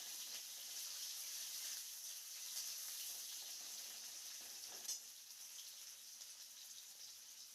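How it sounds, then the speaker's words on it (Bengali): Sliced onions sizzle gently in hot oil for a Bengali chicken and potato curry, a soft continuous crackle with occasional stirring scrapes and one brief louder clink near the middle. "পেঁয়াজটাকে আমাদের একটু ফ্রাই করে নিতে হবে"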